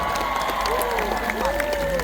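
Concert crowd at a show in Makassar applauds and cheers for the guitarist, a broad roar of clapping and voices under a sustained guitar tone and the singer's voice.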